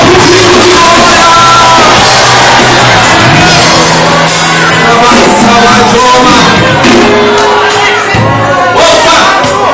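A church congregation erupts in loud, sustained shouts of glory, many voices yelling and whooping together in a reverberant hall for nearly ten seconds.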